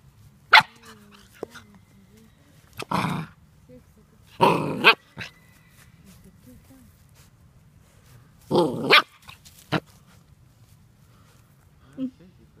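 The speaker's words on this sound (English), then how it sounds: "Cute little puppy." Labradoodle puppies bark and yip in short bursts, a few loud close barks scattered with gaps between them, while people talk softly nearby.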